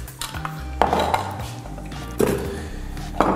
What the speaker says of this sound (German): Die werden grob gehackt, also 4 Sekunden auf Stufe 4.